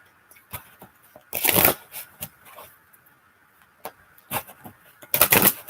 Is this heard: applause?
no